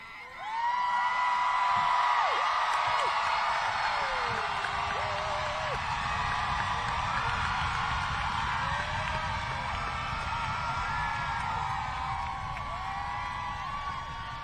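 A graduation crowd at a high school ceremony cheers, whoops and yells continuously in a large hall, with many overlapping voices and shrill shouts sustained throughout.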